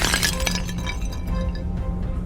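A shattering, crackling break like brittle bone or glass splintering apart as a skeleton is struck in a fantasy tabletop adventure, starting sharp and loud, then trailing off into scattered tinkles.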